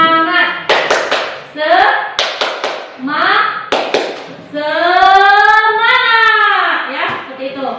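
A class of children claps hands together in a short rhythmic burst of sharp, close claps, alternating with children's voices chanting and shouting loudly.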